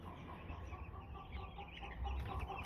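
Young chicks in a brooder cheep and cluck softly, a faint steady chatter of many birds with no talk over it.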